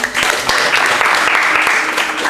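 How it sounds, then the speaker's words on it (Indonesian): A classroom bursts into applause for a student after a lesson on engine ignition systems, dense steady clapping filling the whole stretch at close range with a few sharper claps standing out. "Tepuk tangan untuk Mas Bima."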